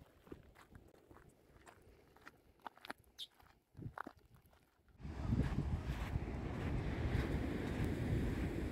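Surf breaking on Praia da Armação in Florianópolis, Santa Catarina, rushes in as a loud continuous wash after some faint wind and footstep-like sounds, filling the second half without talk.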